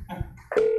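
A telephone sounds during a live prize-winner call, a short electronic tone rising out of brief clatter and holding steady near the end.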